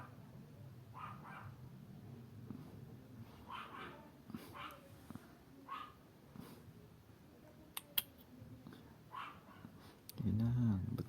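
Dogs bark and yip intermittently at a distance beneath ongoing conversation, with short sharp barks scattered through the scene.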